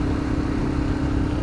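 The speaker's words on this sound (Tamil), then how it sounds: "ஸ்கார்பியோ காரம் போயிட்டான் அவன்." A Scorpio car overtakes on an open highway, heard as a steady, loud engine drone and road rumble with a constant hum, close by and unbroken, without speech.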